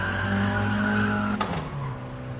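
A 1965 Mini Cooper S in Gran Turismo Sport drones at high revs, then brakes hard with a brief screech as the engine note drops, loud and close.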